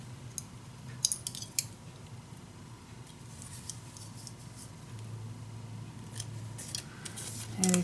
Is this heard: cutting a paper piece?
yes